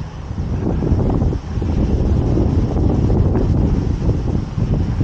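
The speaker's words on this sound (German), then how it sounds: "Oh, ganz schön der Wind." Strong wind buffets the microphone outdoors along the Danube during a long-distance hike in Vienna, a loud, low, continuous roar with gusty swells and no voices.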